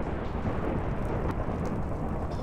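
Thunder crackles from the lightning bolts of a flying ring in a video game, a dense, loud, continuous rumble with a rain-like hiss throughout and no speech.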